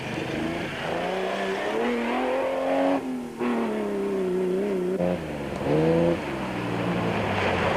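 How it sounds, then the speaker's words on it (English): Rally vehicles, an older Toyota Land Cruiser and a Nissan Safari, racing in the 1995 Baberspan 500, engines droning loud and near with rising and falling revs and gear changes. "Jannie Visser and Johan Bester had also stepped up the pace in the older Land Cruiser"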